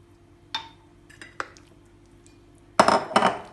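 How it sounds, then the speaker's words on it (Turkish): Spoon stirring a potato filling for börek in a bowl, a few scattered clinks and scrapes followed by two louder clattering strokes, close by with no talk. "Bunu karıştırıyorum."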